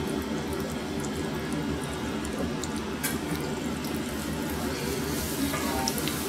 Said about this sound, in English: We're going to put our 2 tablespoons of unsalted butter in our pot and get it nice and hot